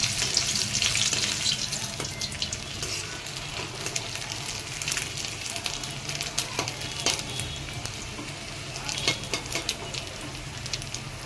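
Dried Bombay duck fish fries in hot oil, giving a loud, continuous sizzle dense with crackles and pops that runs throughout.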